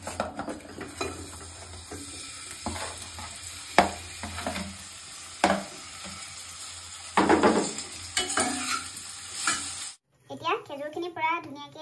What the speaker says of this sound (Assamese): ঘিখিনি গৰম হোৱাৰ লগে লগে মই এতিয়া ইয়াত দি দিম খেজুৰখিনি